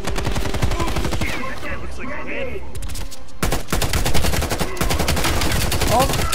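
Rapid automatic gunfire in Call of Duty: Black Ops Cold War, loud dense bursts with a brief lull in the middle, and voices talking over the shooting.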